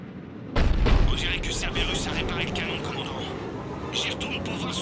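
A Cerberus cannon fires in Mass Effect 3, a heavy, loud boom with a sharp onset that rolls into sustained rumble and battle noise, while voices talk over it.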